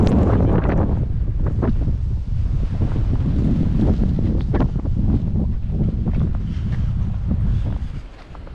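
Strong wind roars continuously across the microphone on a cold, exposed mountain trail near Gatlinburg, Tennessee, loud and blustery with gusting swells throughout before easing at the very end.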